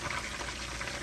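Vegetable stock at a rolling boil in a pot, a soft steady bubbling hiss that stays faint and even throughout, with no voices.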